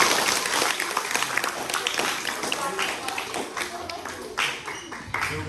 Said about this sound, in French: on peut applaudir les Hamilton.